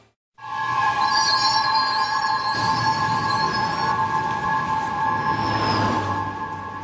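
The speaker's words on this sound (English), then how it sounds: "The target, the New York City subway system." A New York City subway train on the Broadway line, a loud close rumble of wheels on track with sustained high metallic squealing tones over several seconds.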